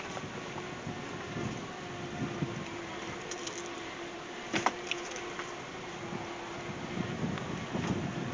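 Steady breezy wind outdoors buffets the microphone in a continuous rushing roar, with a few brief knocks and clicks partway through and no talking.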